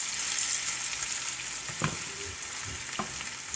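Wild greens fry in bacon grease with a steady, close sizzle and hiss, and a spatula stirs and scrapes the pan a few times near the end.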